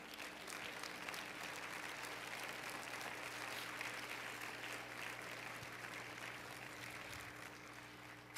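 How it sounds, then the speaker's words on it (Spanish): Church congregation applauding in a steady, even wash of clapping that holds for the whole stretch, fairly soft and distant with a faint hum beneath. "Dele un aplauso."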